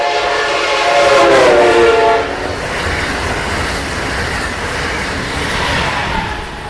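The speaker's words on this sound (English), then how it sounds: "as the train moves towards the observer, the pitch is high because it's coming towards you" A train sounds its horn as it approaches and passes, the loud horn tones sliding downward in pitch as it goes by, followed by the rumble and clatter of railcars rolling past close at hand.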